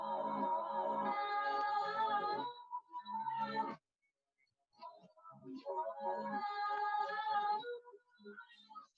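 A chopped sample is played in reverse, giving swelling, backward-sounding tonal phrases in two main passages separated by a near-silent gap, quiet and with vocal-like texture.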